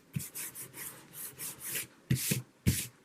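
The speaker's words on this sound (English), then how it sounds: "This beacon glue rubs off nicely." Rubbing excess Beacon glue off paper with a finger: a series of short, close dry scuffing strokes in an uneven rhythm, a few of them firmer and louder, with no voices.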